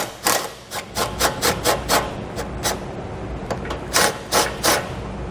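A half-inch socket ratchets a bolt out of a 2017 Dodge Charger during a trailer hitch install, a rapid series of sharp metallic clicks in uneven bursts, close and loud with no talking.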